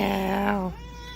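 A person imitates a cat with a drawn-out, whiny meow, loud and close, its pitch sliding before it fades into a softer tail.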